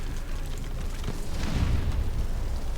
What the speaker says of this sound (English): we're getting some good explosions there